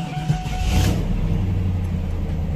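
A 1997 Pontiac Firebird engine catches and settles into a steady, close, low idle rumble, with a brief rise in revs near the start.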